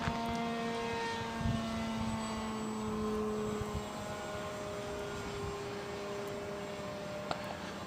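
Electric motor of a model drone aircraft in flight with the throttle eased back, a steady whining drone with sustained tones that dip slightly as power drops, fairly loud and continuous.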